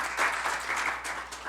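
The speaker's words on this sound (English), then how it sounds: "We'll clap for him anyway." A school board meeting audience claps in a short burst of steady applause, moderately quiet and slightly distant in a large room, with no talking over it.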